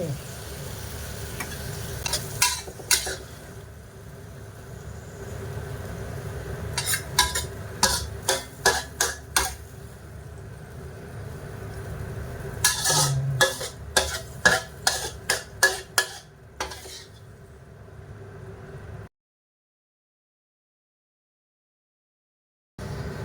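Ginger sauce ladled from a pan onto a plate of tilapia, a quiet background bubble punctuated by bursts of sharp metal-on-pan scrapes and clinks in quick clusters, ending in silence.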